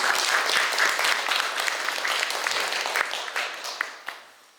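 Applause from an audience at a Buddhist lecture on the Bloodstream Sermon at Baekyangsa temple, dense broadband clapping that stays steady, then thins out and fades over the final second.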